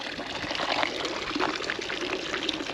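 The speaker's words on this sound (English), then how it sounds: "that tube there comes from a natural water source" Spring water from a natural source runs out of a tube at a homestead, a steady, close, full gushing pour that continues evenly throughout with no voices.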